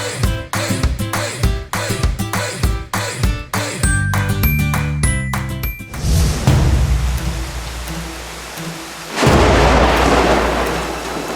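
Heavy rain outside, with a loud rumbling crack of thunder midway and a steady rain wash afterward, following musical beats at the start.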